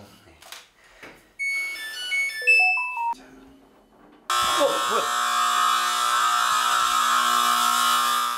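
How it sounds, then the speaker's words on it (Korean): A household alarm rings loudly with a continuous, harsh tonal blare that fills the room after a short series of electronic beeps, holding steady for several seconds. "집안이 떠나가라고 울리는 알람음."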